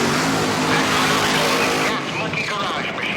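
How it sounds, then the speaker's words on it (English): A Gas Monkey Garage top fuel dragster fires up at an NHRA drag strip with a loud, harsh engine blast that drops off abruptly about two-thirds of the way through, leaving a thinner rumble. "That's Kevin Kinsley firing his car."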